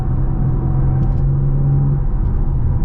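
A BMW G80 M3, 50 Jahre Edition, pulls hard under acceleration in manual mode, its engine holding a steady, loud, close droning rumble with a rising whine throughout, and no talking.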